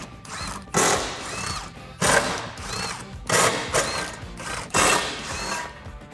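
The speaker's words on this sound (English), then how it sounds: "I'll get a 13mm socket on an impact gun to get these off" Impact gun with a 13mm socket removing the bolts from a brace under a Camaro: five bursts of loud, rattling whirring, each about a second long, separated by short pauses.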